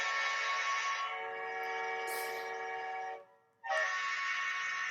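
Train horn sound effect, a loud sustained multi-tone blast that holds for about three seconds, breaks off briefly, then sounds again.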